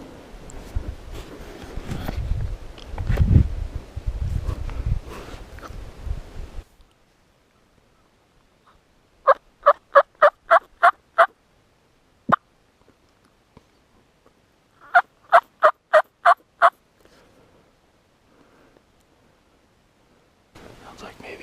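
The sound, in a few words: Merriam's wild turkey gobbling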